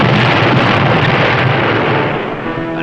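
A torpedo explosion against an enemy vessel in wartime, a loud sustained roaring rumble that stays dense and powerful for several seconds before easing slightly, with no voices.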